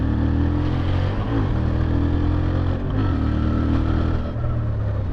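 A Honda XL750 Transalp motorcycle accelerates on an open road, its engine note climbing and dropping through gear changes, heard close from the rider's position over steady wind noise.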